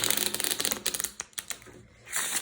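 Crisp, rapid riffling of a deck of cards, a burst of clicks in quick succession, then a softer rustle near the end, close and fairly loud.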